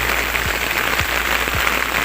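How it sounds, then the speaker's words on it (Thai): Heavy rain pours steadily outdoors during raspberry picking in a garden, a dense, even hiss filling the whole stretch with a few soft low thumps underneath. "ตกหนักมากนะคะฝน"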